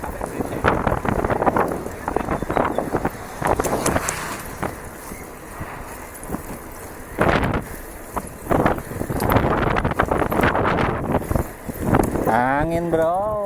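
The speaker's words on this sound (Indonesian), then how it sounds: "Angin bro." Strong wind buffets the microphone while riding a motocross bike along a trail through a palm oil plantation, gusting loud and uneven throughout, with voices talking over it.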